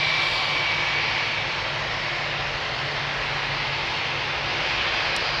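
Vueling passenger jet at Amsterdam Schiphol Airport, a loud continuous engine roar holding steady throughout with no voices.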